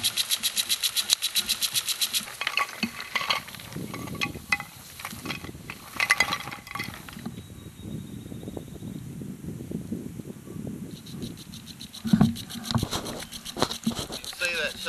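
A garden-hose-driven water wheel, a little stuck after sitting through winter, turns with a steady mechanical whirring and ratcheting clatter, close by, under muffled voices.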